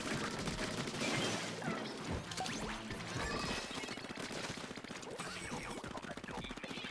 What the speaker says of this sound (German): Jetzt noch einmal geschossen.